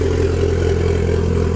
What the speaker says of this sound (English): but it seems to be idling pretty good